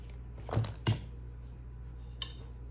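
A knife drawn through a knife sharpener, two short metallic scraping strokes close together, followed by a fainter clink in an otherwise quiet room.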